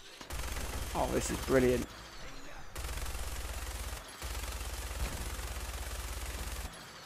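Rapid weapon fire against raiders in the Fallout 4 Museum of Freedom, heard as sustained bursts of low thudding shots broken by brief pauses, with a voice speaking over the first burst.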